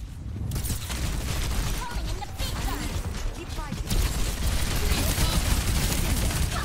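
Rapid bursts of automatic gunfire and booming impacts from a first-person shooter match in Overwatch 2, loud and continuous with mechanical clatter, under excited player talk.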